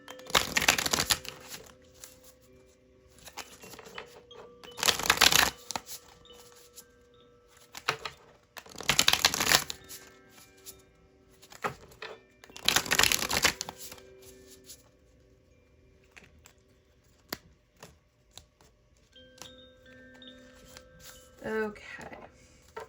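Tarot cards being shuffled in several loud, riffling bursts spaced a few seconds apart, with softer taps and handling noise between them and a quiet stretch near the end.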